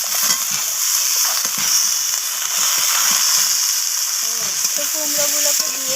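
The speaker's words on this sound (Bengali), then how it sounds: "কুমড়োগুলোকে দিয়ে আমি আবারও নাড়াচাড়া করে ভেজে নিচ্ছি এইভাবে" Pumpkin pieces stir-fry in a pan with bitter gourd and onion, giving a loud, steady sizzle with scraping stirs; a voice speaks faintly underneath near the end.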